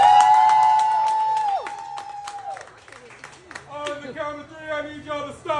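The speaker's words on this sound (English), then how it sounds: "Can we give her a round of applause?" Restaurant diners at a Texas Roadhouse applauding for a birthday guest, a burst of clapping and cheers under a loud voice and a sustained tone, then scattered applause tapering off amid chatter.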